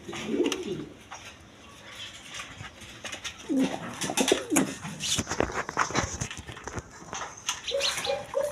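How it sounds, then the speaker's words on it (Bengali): Male and female pigeons in a market pen coo in low, rolling bursts, with other birds calling and faint farm noise around them. "একদম ছটপট কবুতর এই যে নর আর ওইটা মাদি"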